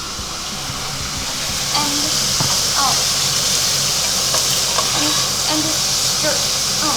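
Onions for fajitas hit a hot pan and sizzle loudly and steadily, with spatula scrapes and taps as they are stirred, while a person talks briefly over the frying.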